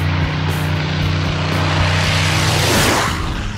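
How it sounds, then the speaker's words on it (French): A Spitfire propeller fighter plane roars past at an anniversary event, its engine loud and building before the pitch sweeps downward as it passes and fades slightly. "D'ailleurs, Ray Hanna, l'un des meilleurs pilotes de sa génération, pilotait le Spitfire à ce moment-là."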